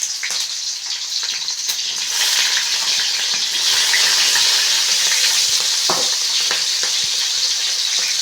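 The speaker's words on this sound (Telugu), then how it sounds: "మళ్ళీ పచ్చిమిరపకాయలు వేసుకోవాలి." Green chillies sizzle and crackle in hot oil as a breakfast dish is cooked. A continuous, close frying hiss runs throughout with occasional stirring clinks, and no one speaks.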